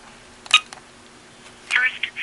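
Phone dialing tones while calling voicemail on an iPod touch set up as a phone: a few short beeps, then a quick cluster of tones near the end, fairly faint and alone over a quiet hiss.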